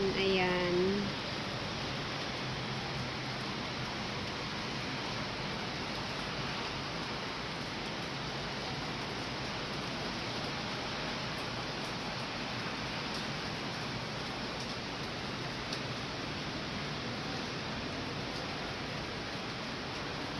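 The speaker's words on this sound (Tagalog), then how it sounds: "Maulan ngayon." Steady rain falls outdoors in a garden by a mulberry tree, a dense, even hiss that runs unbroken for the whole stretch at moderate loudness, with a faint brief voice-like sound near the start.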